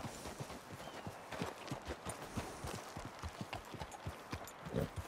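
Horse hooves clip-clop steadily at a walk in Red Dead Redemption 2, a close, even rhythm of dull thuds continuing throughout with faint ambient texture behind.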